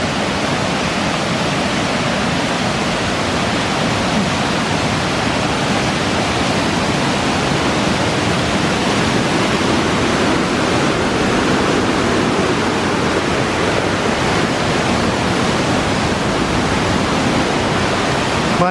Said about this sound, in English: we've got the rapids down there